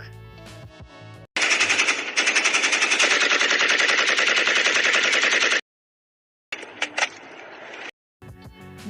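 Sustained loud automatic gunfire, a rapid rattling burst lasting several seconds, then a brief quieter pair of shots after a gap.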